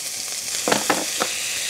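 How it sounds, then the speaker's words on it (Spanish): Chopped onion hits a hot, lightly oiled frying pan, giving a brief sizzle with a few sharp crackling bursts over a soft hiss. "Cuando ya está caliente, incorporamos la cebolla picada"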